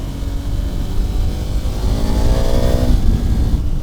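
A 2015 KTM 1290 Super Adventure motorcycle rides in third gear, with a steady, loud engine drone that rises slightly in pitch midway, mixed with wind rumble.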